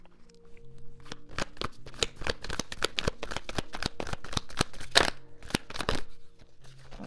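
Tarot cards shuffled by hand during a Gemini reading, a dense run of crisp riffling snaps and slaps up close that rises and falls in quick bursts, alone with no voices.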